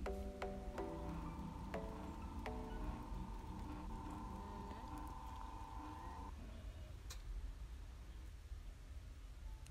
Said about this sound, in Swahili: huku mashine bado inaendelea kuchanganya vizuri